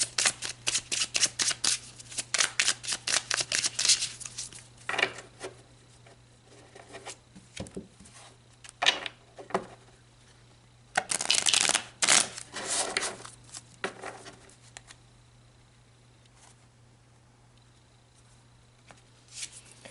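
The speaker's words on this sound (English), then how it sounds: "So let's pull a few more cards." Tarot cards are shuffled and drawn in quick papery riffles and flicks, coming in bursts separated by pauses, all close up over a faint steady hum.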